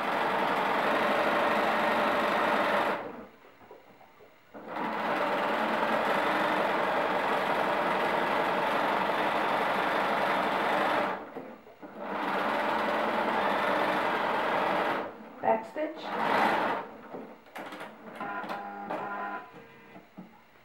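A sewing machine stitches elastic onto a pencil skirt in long, steady whirring runs, pausing briefly between runs, then finishing with a few short stop-start bursts, close and loud.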